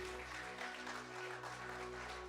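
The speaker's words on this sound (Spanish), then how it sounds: "dale el mejor de los aplausos" A church congregation applauds during a bilingual Spanish-English sermon, a brief wash of steady clapping heard at a distance and fairly faint.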